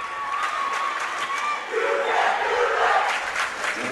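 A student section at a ladies' high school basketball championship game roars and yells in a gym, a loud sustained crowd cheer that swells in the second half.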